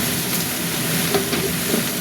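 Vegetable chorchori fries in a pan with turmeric, chili powder, salt and a little sugar, giving a soft steady sizzle with faint stirring scrapes and no talking.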